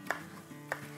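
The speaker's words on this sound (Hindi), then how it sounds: "यहाँ देखिए हमारे पास कुछ हरी मिर्चें हैं, जिसमें से बड़ी वाली जो है वो इस वक्त मैं काटूंगी" A knife chopping a large green chili on a cutting board, two crisp distinct cuts about half a second apart, quiet and close.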